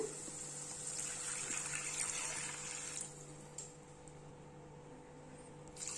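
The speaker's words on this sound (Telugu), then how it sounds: "ఇప్పుడు ఒక 2 కప్పుల వాటర్ పోసుకున్నాము" Two cups of water poured into a pan of spiced egg curry make a steady, rushing splash for about three seconds, then stop, leaving a quiet hum behind.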